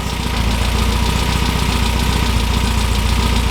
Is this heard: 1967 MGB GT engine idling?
yes